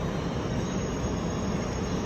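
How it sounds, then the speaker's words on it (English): A Koblenz train departing a station platform, a steady low rumble of rolling rail cars heard close and continuous, with no voices. "Well, there goes the Koblenz train,"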